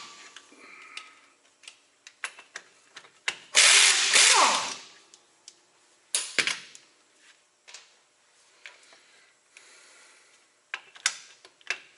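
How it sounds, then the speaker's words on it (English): A power tool spins off truck driveshaft U-joint bolts in short bursts, one long whirring run among quick ratcheting and clicking pulses, with metallic clinks and pauses between. "Let's pull all our U-joint bolts."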